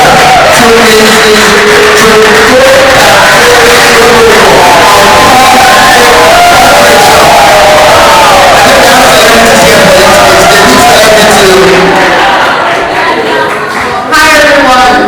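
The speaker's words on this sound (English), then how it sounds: "please give a resounding round of applause to Mrs." A large crowd at a professional photography event cheers loudly and continuously, with shouts and whoops running throughout before the noise thins out near the end.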